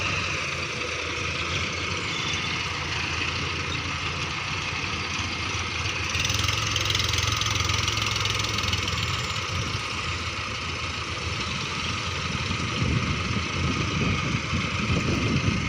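A Mahindra 655 tractor engine idles steadily, a close, continuous low chugging drone that holds an even level, with slight variation partway through and no talking.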